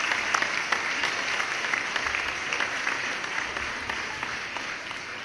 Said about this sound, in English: A round of applause for Titus Tatius.